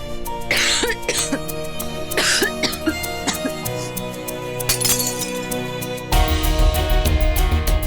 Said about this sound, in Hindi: खांसना बंद करो प्लीज